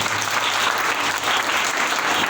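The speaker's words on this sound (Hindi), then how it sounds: "जोरदार ताली से स्वागत करिए" A crowd claps loudly and steadily in welcome of a school secretary at a Republic Day function, a dense continuous wash of hands with no gaps.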